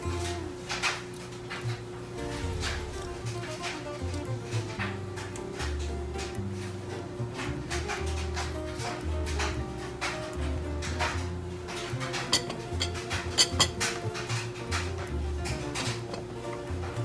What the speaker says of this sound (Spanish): Disculpen el ruido que se oye en el fondo, es la secadora.